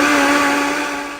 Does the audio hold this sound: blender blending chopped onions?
yes